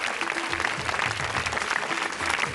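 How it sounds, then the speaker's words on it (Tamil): Steady applause from a television game show studio audience fills the whole stretch, dense and even, with a faint murmur of voices underneath. "மீண்டும் ஒரு கைத்தட்டல்."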